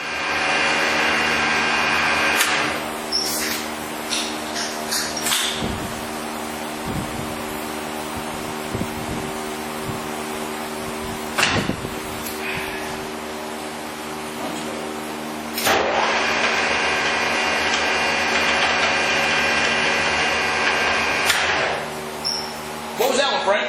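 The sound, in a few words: Mori Seiki lathe spindle running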